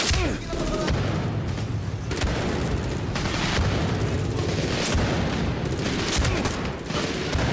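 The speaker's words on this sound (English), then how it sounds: "Uh oh, grenade!" Grenade blasts and heavy gunfire in the first-person shooter game Medal of Honor Warfighter, a dense, continuous barrage of booms and shots filling the scene, with faint talk underneath.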